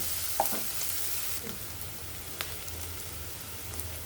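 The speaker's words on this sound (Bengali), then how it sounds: "এখানে আমি পেঁয়াজ কুচি দিয়েছি দিয়ে এটাকে আমি তেলে দিয়ে নিব" Chopped onions go into hot oil for a mutton curry, sizzling in a steady crackling hiss with a few sharp pops and light stirring clicks, close and fairly quiet with no talk.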